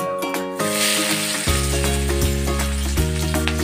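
Dried red chillies, cinnamon, cardamom, ginger and garlic frying in hot oil, a dense crackling sizzle with utensil taps and a steady low hum, loud and close, with no speech.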